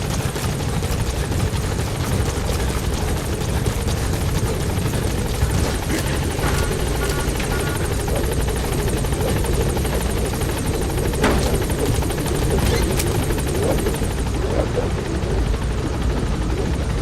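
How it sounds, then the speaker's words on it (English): A support helicopter's rotor thumps and engine roar hold steady and loud throughout in a Metal Gear video game, a dense continuous drone with no voices. "Support helicopter has arrived."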